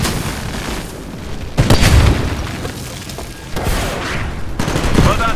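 Automated turrets pound away at the Red Eye ship in Titanfall, giving heavy booming volleys and bursts of rapid gunfire that swell and fade under a dense battle din.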